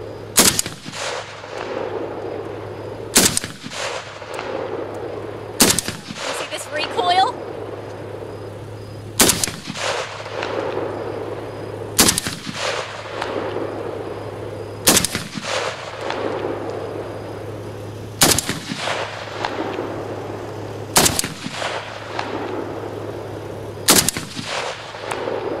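Single loud gunshots from a 1986 Russian Tula AKS-74u Krinkov rifle, about nine sharp reports spaced roughly two to three seconds apart, each with a brief outdoor echo over a steady low hum.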